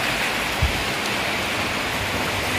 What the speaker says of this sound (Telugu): వర్షం అయితే చూడు ఫ్రెండ్స్